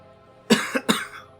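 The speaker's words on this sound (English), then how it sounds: "I gotta clear my throat." A person coughs and clears their throat during a tabletop role-playing game session: two sharp, close coughs about half a second apart with a smaller rasp between, then a fading throaty tail.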